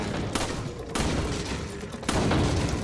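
Gunshots at the shooting gallery in Resident Evil 4, a few loud sharp blasts spaced apart over a continuous dense game background, with no talking.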